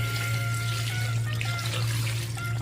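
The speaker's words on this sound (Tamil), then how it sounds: "தண்ணி ஊற்றிக்கலாம்." Water runs steadily, like a stream pouring into a sink or container, with a constant low hum underneath.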